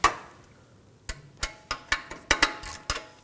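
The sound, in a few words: 22mm extractor socket loosening Kia Sorento oxygen sensor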